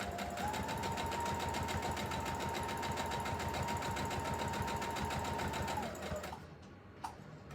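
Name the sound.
sewing machine straight stitching around emoji pillow mouth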